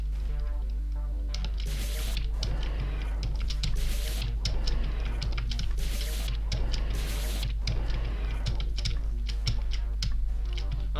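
Computer keyboard keys pressed rapidly and continuously during play of the platform game I Wanna Kill the Kamilia 2, dense close clicking and tapping over a steady low electrical hum.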